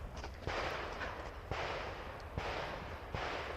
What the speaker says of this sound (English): You pick up the rifle again that's on the table.